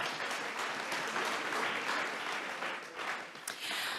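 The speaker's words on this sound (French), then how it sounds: "On peut les applaudir tous les deux, s'il vous plaît." Audience at an economic inclusion summit closing applauds two speakers, a steady, dense round of clapping from a sizeable crowd that swells and dips slightly before continuing, with no talk over it.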